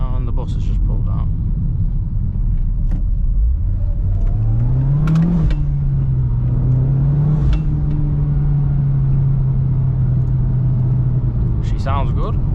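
Mitsubishi Evo X with an ETS intercooler and piping on a country road, its engine loud and close as it revs up and accelerates with a rising growl, then holds a steady pull.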